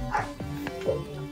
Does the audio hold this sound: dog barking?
yes